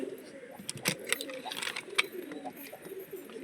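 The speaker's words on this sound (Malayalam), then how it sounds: "ഇത് പ്രാവുകളെല്ലാം കിടപ്പുണ്ട്." Pigeons coo in a home loft during the rainy season, repeated soft throaty calls from several birds close by, mixed with light flutters and chirps, while someone talks faintly beneath them.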